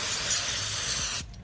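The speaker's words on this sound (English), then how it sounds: "and just spray it there and let it sit." Brake cleaner blasts from an aerosol can onto a Subaru front brake rotor, a loud continuous hiss lasting over a second before cutting off abruptly, close up with no speech.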